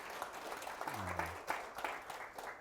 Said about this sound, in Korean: 박수를 좀 쳐주시면